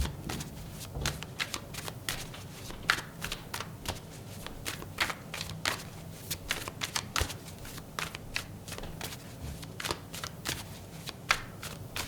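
Tarot cards are shuffled by hand close up, a long run of quick riffling flutters and soft slaps in irregular bursts, with no talking.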